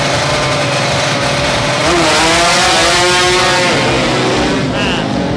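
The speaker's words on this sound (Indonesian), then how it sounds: "motor custom ikutan drag race" A custom motorcycle roars steadily at a drag race, its engine loud and close, rising in pitch as it revs, with crowd noise and talk layered underneath.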